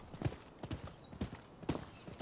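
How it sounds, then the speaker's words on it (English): A horse's hooves clip-clop steadily in the video game Rise of the Ronin, each pair of soft thuds evenly spaced and fairly quiet, with no talking over them. "I got me a horse."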